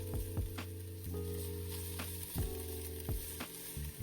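Onions and herbs frying in a pan give off a steady close sizzle, punctuated by a handful of clinks and scrapes from stirring, with no voices.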